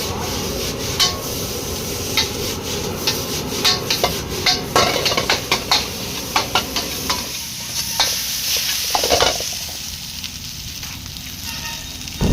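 Chicken noodles are stirred and tossed in a pan over a fire, making repeated scraping strokes and clatter over a steady sizzle. The scrapes come in a fairly regular rhythm, loud and close, and the frying quietens toward the end.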